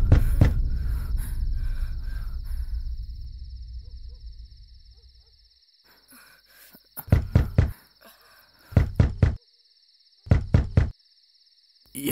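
Knocks on a door come in three distinct clusters of several sharp raps each, separated by pauses, over a quiet night backdrop with a faint steady insect-like whine and a fading low rumble at the start.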